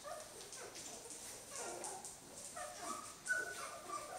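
Two-week-old Jamthund puppies whimper and yip in a litter, several soft high cries overlapping in short irregular bursts, fairly close and quiet.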